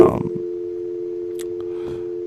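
A steady, unbroken telephone line tone hums from a dropped call-in caller on a live talk show, continuous and fairly loud after a brief burst of noise at the start.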